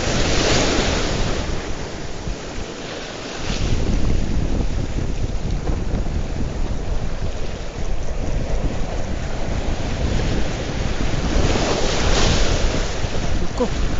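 Ocean waves surge and break at a fishing spot, with heavy wind buffeting the microphone and a loud, continuous wash of surf that rises in bursts.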